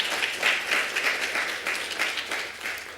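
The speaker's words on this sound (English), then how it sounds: "Can we clap it up for her one time?" Audience clapping for a speaker being introduced at an inspirational event, with a dense, lively wash of many hands that swells and dips in waves, fairly close and filling the room.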